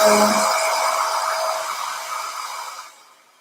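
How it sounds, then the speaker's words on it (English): A hair dryer blows with a steady, loud whooshing roar, holding for about three seconds before switching off abruptly. "I'm using the hair dryer to dry it quickly."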